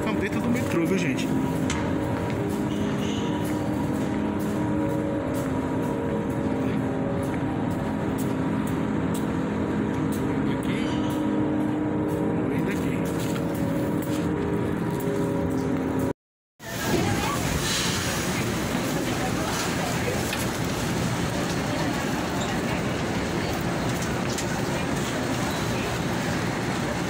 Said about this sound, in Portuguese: Estamos dentro do metrô, viu, gente?